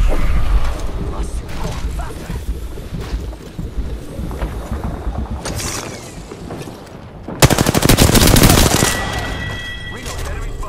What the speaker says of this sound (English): What the heck are they shooting at?